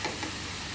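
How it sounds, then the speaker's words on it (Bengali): Broiler chicken pieces fry with onions in oil, a brief, constant crackling sizzle at moderate level with no voices. "এখানে আমি মুরগিটা আগে পেঁয়াজে ভেজে নিচ্ছি, তেল দিয়ে।"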